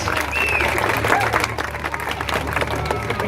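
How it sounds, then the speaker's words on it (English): An audience at the Pleasure Island sea lion show applauds loudly and steadily throughout, a dense wash of clapping with crowd voices mixed in. "how about we give Robert a final round of applause as he makes his way off stage"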